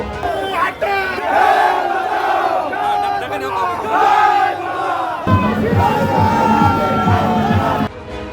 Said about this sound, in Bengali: কোথাও বিজেপি ও তৃণমূল কর্মীদের মধ্যে তুমুল অশান্তি, দুই দলের কর্মীদের মধ্যে স্লোগান যুদ্ধ